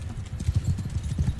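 Cavalry horses' hooves in the fantasy strategy video game Realms Forgotten, a quick run of rhythmic clip-clops at moderate volume, trotting steadily without pause and heard alone without speech.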